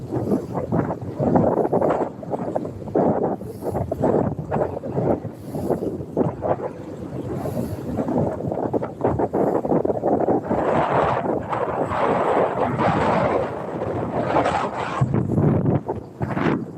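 Strong wind blows across open water near a yacht club during inshore fishing, roaring and buffeting the microphone in constant gusty rushes that fill the whole stretch.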